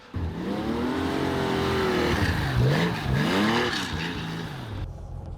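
Tuthill-built Porsche 911 rally car driving on a snowy skid pad, its engine revving loudly and continuously with pitch swooping up and down as it slides, close and steady throughout.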